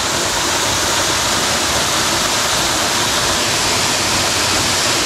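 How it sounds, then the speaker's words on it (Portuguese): Water tumbles down an eight-metre waterfall on a Rio Cari tributary in Morretes, Paraná, producing a loud, unbroken roaring rush heard up close and alone throughout. "mais uma cachoeira de um bom tamanho"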